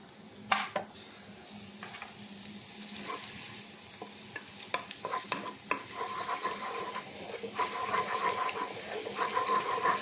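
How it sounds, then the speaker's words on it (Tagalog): Garlic and onion sauté in a pan over medium heat for squid adobo, a soft ongoing sizzle with frequent spatula scrapes and taps on the pan, growing busier toward the end; nobody speaks. "Maggisa na tayo ng bawang at sibuyas."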